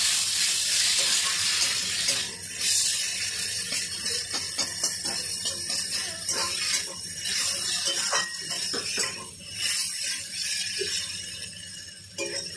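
Potatoes, tomatoes and green chillies with turmeric and ginger paste sizzle steadily in a pan, with repeated scraping stirs and clatter throughout, loud and close.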